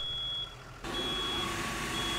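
A fire alarm in a firefighting and hazmat response video game emits a continuous high electronic beep that suddenly swells louder and rougher midway, over a steady engine-like rumble.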